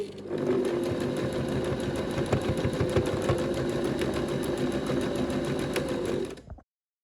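A sewing machine runs continuously, stitching along a folded-over hem on a duster garment, a steady fast mechanical whir and patter that stays even for about six seconds before stopping abruptly.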